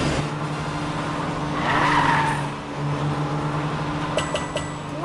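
A race car in a PJ Masks building-and-racing game revs steadily and skids with a sustained tire squeal partway through, followed by bright chime-like pickup blips near the end; no talking.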